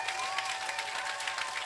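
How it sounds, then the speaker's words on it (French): A crowd at an evangelistic campaign meeting applauding, dense steady clapping mixed with faint cheering voices. "Acclamons pour lui."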